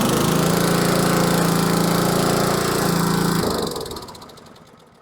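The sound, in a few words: Troy-Bilt Super Tomahawk chipper engine running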